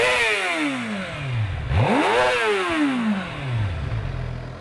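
Suzuki GSX-R600 sport motorcycle engine revving hard up to its rev limiter, with loud rising and falling howls and a sharp peak near the middle, close and alone without talk.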